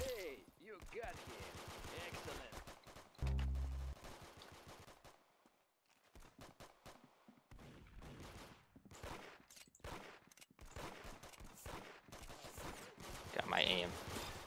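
Rapid pistol gunfire from an Arsenal video game match, sharp shots in quick bursts mixed with game sound, with a player talking throughout.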